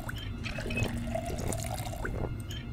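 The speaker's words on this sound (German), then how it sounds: "Fülle Trinkflasche, das ist immer gut." Water running into a drink bottle in the survival game Project Zomboid, a soft steady pour and trickle, fairly quiet and continuous.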